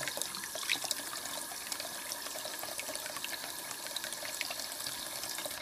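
Quiet, continuous water splashing and trickling as a juvenile bearded dragon swims in a warm shoulder-deep bath, soft sloshing with small droplets, close by and without voices.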